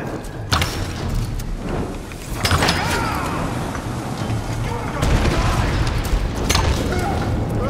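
Fire arrow shots and explosions in the Tomb Raider video game, with heavy booming bursts at about half a second, two and a half and five seconds over a dense, continuous rumble of game noise.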